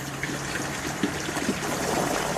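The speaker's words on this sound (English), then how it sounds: "that thing sucks the water back down" An aquaponics bell siphon sucks water back down as the grow bed drains, a steady gurgling trickle of liquid with soft bubbling bursts, fairly close and alone with no talk.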